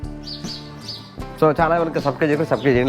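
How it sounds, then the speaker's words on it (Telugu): Small birds feeding outdoors give a few high, thin chirps at first, then a person talks over them while the chirping fades into the background. "మా పిట్టల కిలకిల రాగాలు చూస్తారు కదా"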